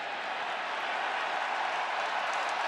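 A packed stadium crowd at an Oregon versus Wisconsin college football game, a dense, even roar of applause and cheering spread across the whole span, distant and steady without distinct voices.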